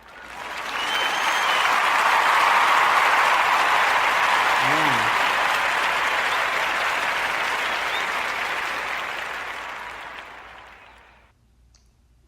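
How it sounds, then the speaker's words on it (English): Studio audience clapping in a steady, dense wash that swells in quickly, holds loud for about ten seconds, then tapers off, with a brief spoken word partway through. "Come on, we're clapping for you."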